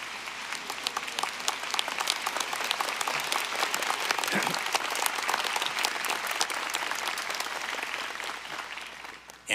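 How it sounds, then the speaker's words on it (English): A commencement audience at the University of Evansville breaks into sustained applause, dense clapping from a large crowd that holds steady and loud throughout. "I ask you to give them, please, a big round of applause"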